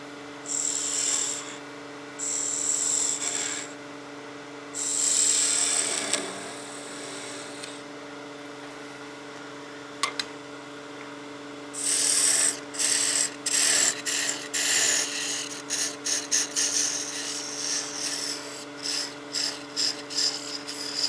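A wood lathe gouge parts down a turned wooden Christmas gnome, giving bursts of close scraping and cutting over a steady motor hum, with a run of short rapid cuts toward the end.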